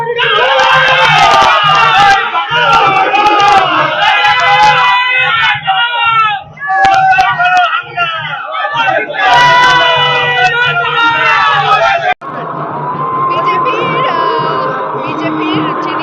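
A political campaign rally crowd in Bardhaman chants slogans against the BJP, loud massed voices shouting in rhythmic call-and-response waves near the microphone, with a lead voice calling out the lines.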